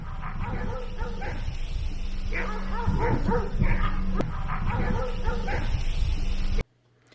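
Several dogs yip and bark in scattered bursts at a dog park in Vero Beach, Florida, moderately close, with faint background noise before the sound cuts off abruptly near the end.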